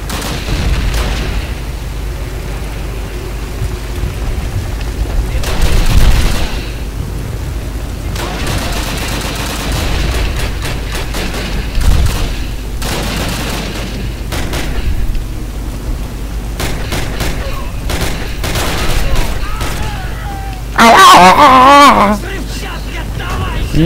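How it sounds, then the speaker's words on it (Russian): Combat in a Call of Duty game, grenade blast and gunfire: heavy booms and bursts of shots come in several loud bands over a steady battle rumble, with talk and a brief bright shrill noise near the end. "Лови, фашист, гранату"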